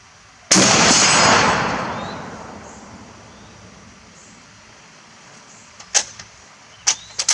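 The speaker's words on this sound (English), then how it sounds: "Let's shoot a 3-round group and see what we end up with." A single sharp, loud rifle shot from an M1917 Eddystone rings out and decays slowly, followed by fainter clicks and clacks of the bolt being worked.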